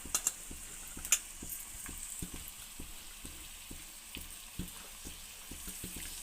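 Onions and chili fry in oil in a pan as the base of a home-style country chicken curry: a soft, fairly faint sizzle with regular light taps of stirring, and no voices.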